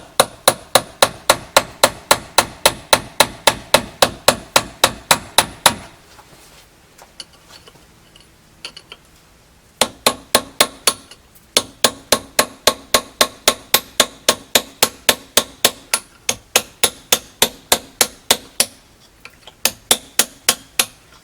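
A hammer taps the small points rotor off a Suzuki TC 185 electric-start dirt bike engine: rapid, steady metallic clinks close up, pausing for a few seconds, then resuming in regular bursts.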